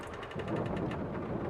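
Side mirrors of a Fendt Katana 850 forage harvester in Farming Simulator 22 move in and out with a steady mechanical whir and evenly spaced ticking pulses, close and moderately loud over a low ambient rumble.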